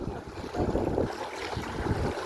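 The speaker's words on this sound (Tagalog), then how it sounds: "Ay, hangin." Steady wind buffets the microphone at a seaside boat landing, a continuous roaring whoosh with gusty swells and a watery wash underneath.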